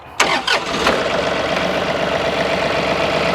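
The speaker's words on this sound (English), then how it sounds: "So now I'll just turn on the key and give it just a second and go ahead and start the machine up" A John Deere 3032E compact tractor's diesel engine cranks briefly with a few loud turns, catches, and settles into a steady, close, rumbling idle.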